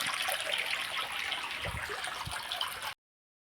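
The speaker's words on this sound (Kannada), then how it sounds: "ಅದಕ್ಕೆ ಹೀಗೆ ನೀರು ಬಿಡೋದು" Water is poured in a steady, close rushing stream that runs without a break and then stops abruptly.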